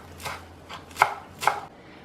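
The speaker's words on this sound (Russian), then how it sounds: "Порежу кинзу." A knife chops fresh cilantro on a board for a Korean-style eggplant salad, four soft separate cuts at an unhurried pace, close and quiet with nobody talking.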